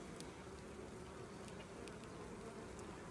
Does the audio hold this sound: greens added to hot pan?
no